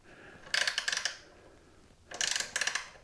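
A bolt is tightened by hand to lock the stem on a Lee Load Master progressive reloading press, heard as two close, quiet bursts of rapid metallic ratcheting clicks.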